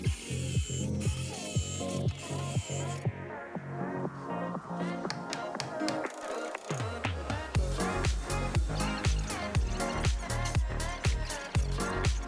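Clamps are ratcheted tight on doweled maple boards during a glue-up, producing rapid, close series of sharp clicks and mechanical ratcheting bursts with brief pauses between them.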